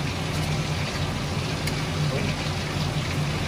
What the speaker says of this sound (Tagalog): Exhaust fan.